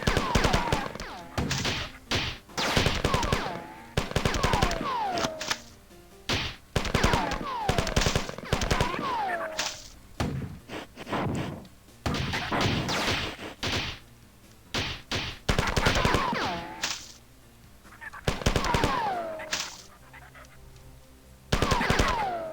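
Rapid gunfire from shooting aliens in a sci-fi shooter game, with repeated loud bursts of automatic fire separated by short pauses and several sharp single shots, continuing throughout.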